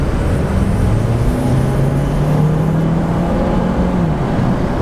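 A 2018 Chevrolet Cruze or 2018 Ford Focus accelerates hard from inside the cabin, its engine note climbing smoothly and steadily under a loud road and wind roar with no one speaking.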